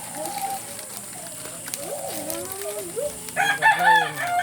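A rooster crows and clucks nearby, giving drawn-out rising and falling calls, while people talk faintly in the background.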